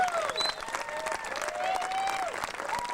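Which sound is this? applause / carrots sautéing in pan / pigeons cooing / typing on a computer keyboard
applause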